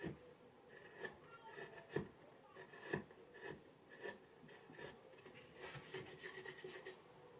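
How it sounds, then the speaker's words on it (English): Bench chisel carving a rounded eyeball into linden wood, giving soft scraping cuts in an irregular rhythm, quiet and close, with no voices. "I quite often use my bench chisels to make a rounded surface like this"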